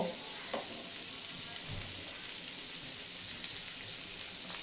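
Red, yellow and green capsicum sizzling in a pan for a cashew salad, a soft steady frying hiss with a few faint stirring knocks, no talk.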